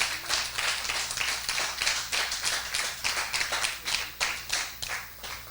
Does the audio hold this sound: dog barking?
no